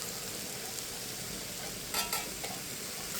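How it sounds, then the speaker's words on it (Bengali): Mixed vegetables with bitter gourd stirred in a frying pan, giving a steady sizzle with a couple of brief scraping strokes near the middle; no voices. "এখন একটু নেড়ে চেড়ে দিচ্ছি"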